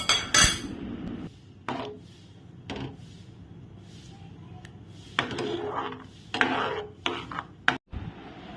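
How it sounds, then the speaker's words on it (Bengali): Boiled rice is stirred in a pot, giving a series of metallic clanks and scrapes of a utensil against the pot with quieter gaps between them. "এইবার আমি সেদ্ধ চালটা দিয়ে ভালো করে নেড়ে কিছুক্ষণ ফোটাবো।"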